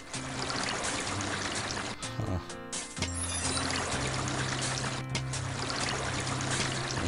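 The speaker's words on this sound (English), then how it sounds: "I'm really losing water" Water pours and leaks from pipes in Where are my Pipes, a continuous gushing stream over looping game music tones, loud and steady with brief dips.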